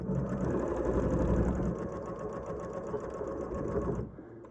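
An Elna 5300 sewing machine stitches fabric forward and in reverse with a steady, close mechanical whir and rapid needle clatter that runs unbroken for about four seconds, then stops.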